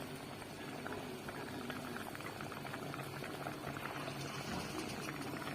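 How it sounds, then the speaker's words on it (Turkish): Tomato soup bubbling at a steady boil in a pot, a continuous soft gurgle and pop with no talking. "Domates çorbam kaynıyor şu anda."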